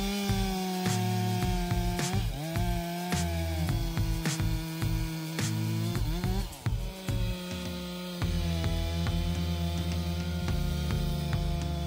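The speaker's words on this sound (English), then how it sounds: "Harvesting these oak trees requires the use of chainsaws" Chainsaws cut oak trees in a dense forest, a loud sustained engine drone that bogs and recovers as the chain bites into the wood, heard alone without talk.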